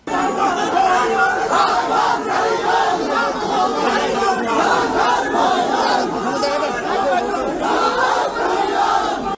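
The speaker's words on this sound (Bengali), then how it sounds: "স্লোগান দেওয়া হইল জয় বাংলা" A large crowd shouts the Bengali slogan Joy Bangla in unison, a loud, dense, continuous roar of many voices with rhythmic chanting throughout.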